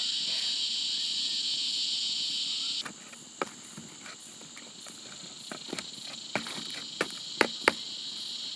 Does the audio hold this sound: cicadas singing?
yes